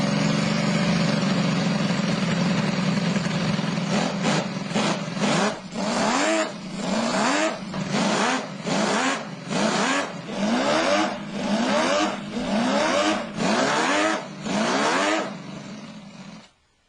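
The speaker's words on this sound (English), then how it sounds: "under the body you'll find a scaled-down version of the original engine, which actually works. It makes the Ferrari music." A working scaled-down 12-cylinder engine in a full-scale Ferrari 312PB model, idling steadily and then revved in a series of about ten rhythmic roaring bursts before cutting off.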